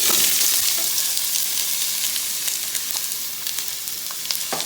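Onions hit a hot, smoking pan and sizzle loudly and steadily, a dense crackling hiss with scattered sharp pops throughout.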